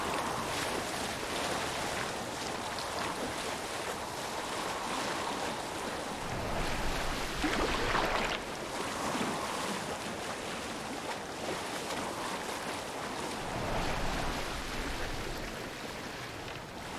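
A boat paddled across the shallow ocean in Assassin's Creed Valhalla, with steady rushing water and wave wash under wind noise, swelling slightly in a few surges.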